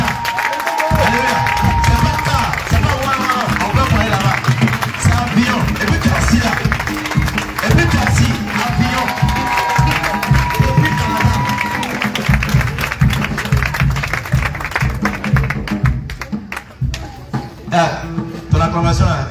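A church congregation claps and cheers loudly and continuously through most of the passage while a preacher speaks over the crowd, the applause thinning briefly near the end before swelling again.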